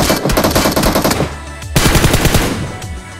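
Shotgun fire in the mobile game Battlegrounds Mobile India, played on an iPad, comes as loud, rapid, close blasts repeating in a quick rhythm, with a brief pause before another burst.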